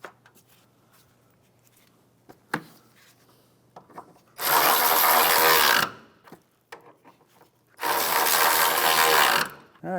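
A ratchet wrench removing the inside 12mm starter bolts on a 2011-2016 Hyundai Elantra: two long, loud bursts of rapid clicking ratcheting, close up, separated by quieter knocks and handling noises of the tool against metal.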